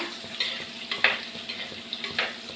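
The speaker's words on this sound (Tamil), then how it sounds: "அப்படியே நல்லா ஃப்ரை பண்ணலாம் எண்ணெயிலேயே. சீக்கிரமாக வெந்துடும் இறாலாம்." Prawns for prawn 65 frying in hot oil, a continuous sizzle with repeated stirring scrapes and light clatter of the spoon against the pan.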